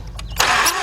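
A 2006 Mazda 6 engine cranks without starting: a short, close burst of starter whir with a rapid pulsing rhythm, lasting under a second.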